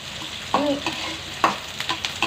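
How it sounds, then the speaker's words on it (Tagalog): Cooking oil sizzles and spits in a pan while chicken adobo cooks, making a steady hiss broken by stirring scrapes and a few sharp pops up close. "ang tosik yung mantika"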